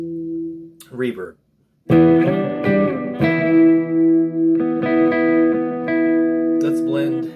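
A Yamaha RGS 121 electric guitar in E tuning plays through a reverb effects unit, ringing chords with long reverberant sustain and decaying tails after a brief gap, with talk briefly at the start.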